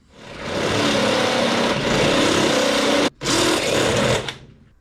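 A power drill bores holes for the seat bolts in a 1947 Plymouth P15 Special Deluxe, whining steadily and loud at close range, then pausing briefly before a final burst that stops.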